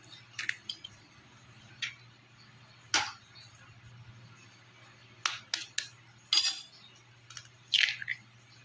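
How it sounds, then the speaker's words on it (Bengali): Egg being beaten together with chopped carrot and onion in a bowl, heard as sparse, brief clinks and scrapes of a utensil against the bowl in short bursts within a quiet room. "এবার এতে ডিমটা এর সাথে গুলে নেব।"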